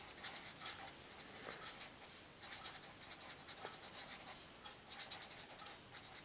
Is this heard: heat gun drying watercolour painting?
no